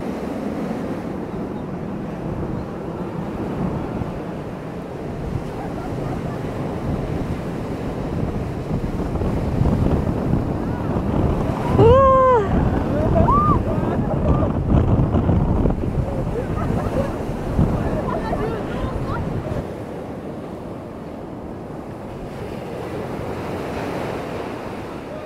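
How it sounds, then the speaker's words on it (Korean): Ocean waves crash and surge on the beach at Gangneung, a continuous loud roar of surf with wind buffeting the microphone, and a brief high voice rises over it midway. "파도를 너무 만만하게 봤어"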